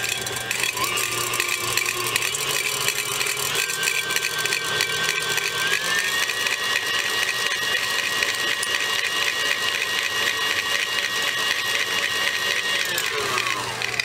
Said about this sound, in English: Let's get over to the KitchenAid. Okay, I have 8 ounces of cream cheese in here, and I'm just going to mix that just a little bit.